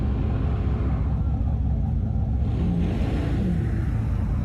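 A Chevrolet C10 truck with a 6.2 LS engine swap does a burnout at a beach party truck event, a dense steady engine roar and tire rumble held loud throughout with slight rising and falling.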